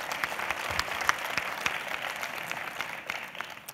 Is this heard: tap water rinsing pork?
no